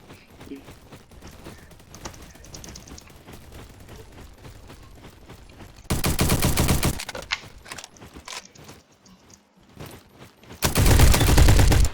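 Unsilenced automatic gunfire in a video game comes in two loud, dense bursts of rapid shots, separated by quieter game noise and clicks, with no voices over the shooting.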